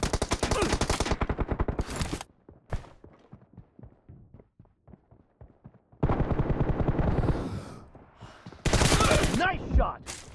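Rapid automatic gunfire rattles through a BGMI battle royale match, with dense close bursts, a sparser stretch of single shots, then more heavy bursts.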